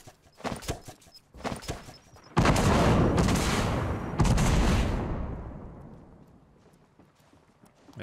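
Two heavy bomb blasts in the Fortnite battle royale game, the first with a long rumbling tail. Sharp clicks and thuds come before them, and a final hit follows at the end.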